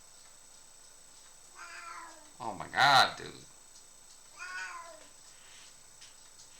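A pet cat indoors gives two or three distinct meows close by, mixed with excited talking from a man in the room.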